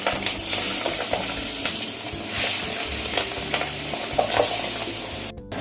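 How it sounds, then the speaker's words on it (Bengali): Pabda fish fry in very hot mustard oil, making a loud continuous hissing sizzle close up with a few soft stirring clicks. "এবার মাছটা ভাজার জন্য ছেড়ে দেবো।"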